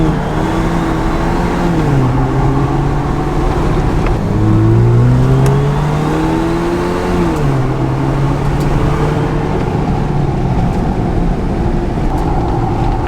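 A Jeep Wrangler 2.0 with a straight pipe exhaust drives down the road, its engine droning steadily and loudly with pitch rising and falling through gear changes, heard from inside without talk.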